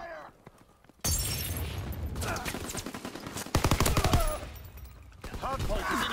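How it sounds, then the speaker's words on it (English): Rapid machine-gun bursts rattle loudly in a WWII video game battle, broken by short pauses, with a brief voice call heard between the volleys. "Taking heavy fire."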